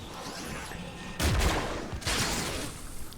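The Plasmatron 9000 gun from the video game Fortnite firing in short, loud energy blasts, two bursts in quick succession with a rushing, crackling tail.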